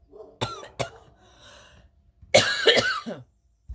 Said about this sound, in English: I'm coughing because